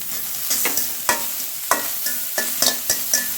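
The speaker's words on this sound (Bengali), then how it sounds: "কিছুটা ভাজা ভাজা হয়ে এসেছে।" Ingredients for muri makha fry in a pan on low heat with a soft steady sizzle, punctuated by repeated sharp spatula knocks and scrapes at an uneven rhythm, close up and with no speech.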